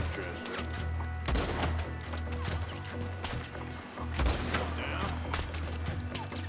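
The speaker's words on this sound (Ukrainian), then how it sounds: "це не так легко ще з цієї рушниці стріляти." Several sharp rifle shots crack out at irregular intervals in the video game Red Dead Redemption 2 over a steady low electronic hum.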